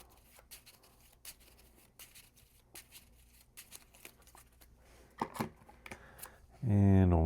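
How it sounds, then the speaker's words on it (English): Cards from a Marvel Champions card game deck riffle and flick in a soft, papery rhythm up close as they are shuffled, ending with a voice starting to speak. "So give this a shuffle."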